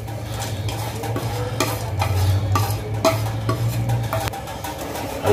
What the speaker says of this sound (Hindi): इसको भी अच्छे से मिलाएंगे।